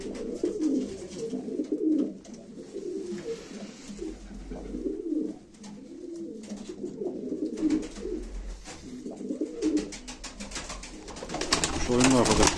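Pigeons coo steadily at a live pigeon auction while someone talks over them, with rising rustle and clatter near the end.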